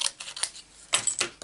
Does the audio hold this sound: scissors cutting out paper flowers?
yes